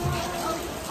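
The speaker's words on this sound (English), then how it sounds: "Rain delays." Steady rain falling at a softball game, a dense even hiss for under a second with no clear voices.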